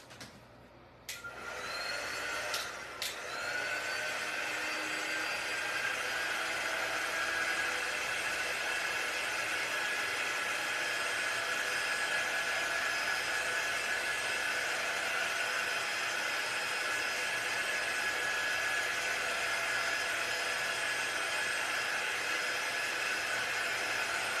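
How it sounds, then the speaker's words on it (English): A Magnolia Design Company heating tool blows hot air steadily and loudly at close range while working on a fabric watermelon stuffie, a continuous whooshing hiss that starts abruptly after a brief click and runs on alone. "I'm going to use my Magnolia Design Company heating tool. You could use a blow dryer."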